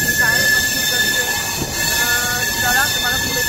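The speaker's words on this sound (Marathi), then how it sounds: "फायनली ट्रेन सुटली आहे" Konkan Kanya Express passenger train pulling out on the Mumbai to Kankavli route, a loud, steady rolling rumble close by with sustained high metallic wheel squeal running throughout.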